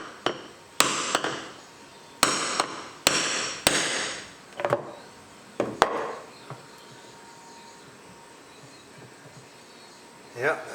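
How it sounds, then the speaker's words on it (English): Hammer and chisel strike a fishing boat part during a center console boat rebuild, a series of sharp metallic bangs spaced irregularly, some doubled, with a quiet pause before one last faint knock. "get a chisel and a hammer, bang on it a couple times, and see if it's loose or not"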